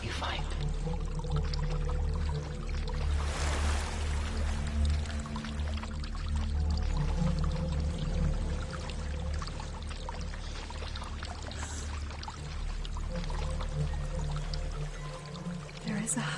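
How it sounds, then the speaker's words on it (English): In the video game Hellblade: Senua's Sacrifice, a waterfall pours in a steady, broad rushing roar that fills the scene throughout, with voices speaking over it. "There's a waterfall."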